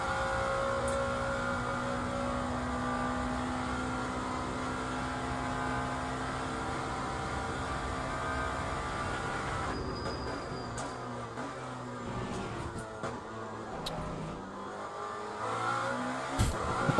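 An F1 car engine in the Le Mans Ultimate racing game holds a steady high whine, then drops in pitch through downshifts partway through, with crackling blips afterward, all at moderate level with no talk.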